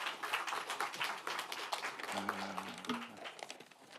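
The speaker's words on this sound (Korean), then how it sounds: "다시 한번 축하의 큰 박수 부탁드립니다" Party lawmakers in a caucus meeting applaud a newly elected deputy speaker candidate, a faint room full of clapping with a brief murmur of voices partway through.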